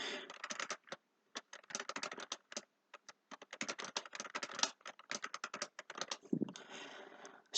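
Fingers typing on a computer keyboard, a close, dense run of clicking keystrokes in quick bursts with short pauses, heard alone without talk.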